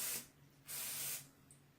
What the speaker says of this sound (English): We spray it.